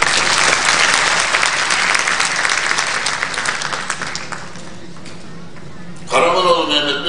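Audience applause for academics at a university science faculty graduation ceremony, a loud sustained clapping that gradually thins out, followed by a voice speaking over a hall after a few seconds.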